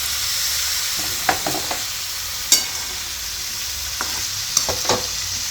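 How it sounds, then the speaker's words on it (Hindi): Boiled peas stirred into a tomato masala with green chillies in a pan, giving a steady background sizzle with a few distinct spoon scrapes and clinks spaced across the stretch. "तो ये देखिए इसमें मिला देंगे मटर।"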